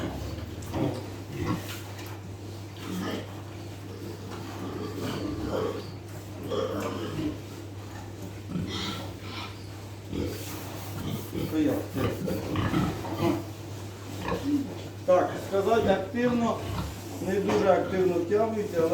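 Repeated snorting pig grunts mixed with a steady hum and a person talking nearby, the grunts growing busier toward the end.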